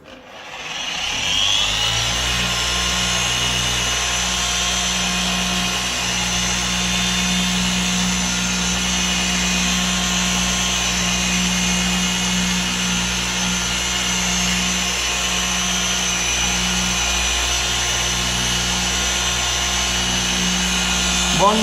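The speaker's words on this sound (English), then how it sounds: "I'll get on with some polishing then" A small machine polisher hums steadily while recovering the paint on a series 1 Escort Turbo, a close, continuous motor drone with a whirring rub across the panel after spinning up.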